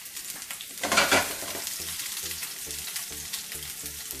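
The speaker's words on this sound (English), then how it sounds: "We're gonna turn around every 2-3 minutes and fry them" Stuffed bitter gourds, filled with ground meat, fry in a pan with a steady oily sizzle, swelling into a brief louder crackling burst as they are turned, then settling back under occasional soft utensil clinks.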